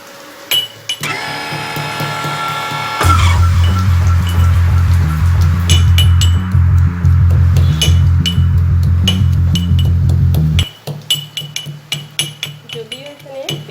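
Chopped ginger being crushed into a paste for egg curry: a loud, continuous low grinding rumble runs for several seconds, with sharp metallic clinks before and after it and a voice in the background.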